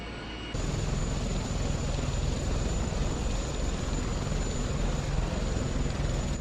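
Sikorsky Sea Stallion helicopter in a flight simulator, its engine and rotor roar steady and loud throughout, a dense broadband drone that steps up slightly in level after the first half second.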